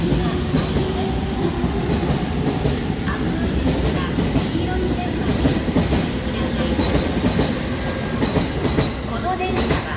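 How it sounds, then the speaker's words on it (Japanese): A 15-car Sobu Rapid Line train bound for Kimitsu arrives at Ichikawa Station platform 4, wheels rumbling and clattering loudly and steadily throughout while a faint platform announcement plays over it. "4番線に快速君津行きが参ります。"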